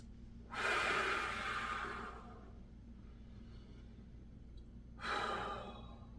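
Heavy, audible breaths follow an advanced core workout, two long breathy exhales separated by a quieter pause, close and alone with no talking.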